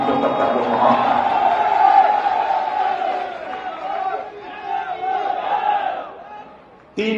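A large crowd at an Indian election rally chants and roars "Modi-Modi" slogans, a loud, sustained massed shouting that swells and then fades before cutting off abruptly.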